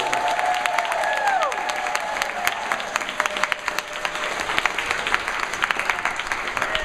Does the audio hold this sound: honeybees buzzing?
no